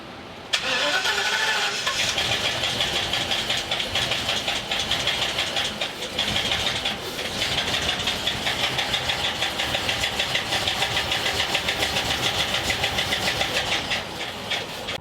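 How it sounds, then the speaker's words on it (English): Rebuilt engine of a 2017 Thor Vegas motorhome cranking and catching, then running rough and loud with an uneven, knocking rhythm for the rest of the span, no talk over it. "Okay, so we did get it started, but the engine is running really rough."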